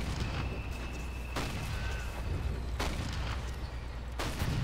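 Mortar and artillery fire in the Toy Soldiers video game on PC, with several sharp booms spaced a second or two apart over steady low battlefield rumble and a faint whistle.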